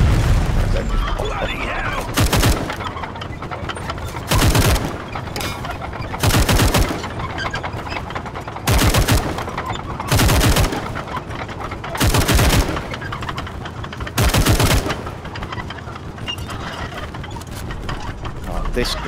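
Loud gunfire in the WWI multiplayer game Over The Top WWI, with about eight heavy, booming shots spaced a couple of seconds apart over steady background noise, while players talk in between.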